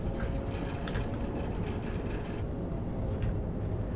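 A train in Train Sim World 5 runs steadily on the Gospel Oak to Barking Riverside line in fog, giving a dense, continuous rumble with faint clatter, loud and close throughout.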